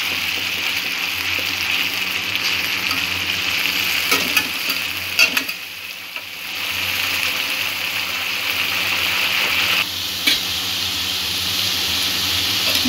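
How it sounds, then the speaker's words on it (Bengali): Chopped onions sautéing and being stirred in a pan, a steady sizzle and frying hiss running continuously with occasional scraping stir sounds, close and fairly loud with no talking. "পেঁয়াজটা 2-3 মিনিট একটু কষিয়ে নেব।"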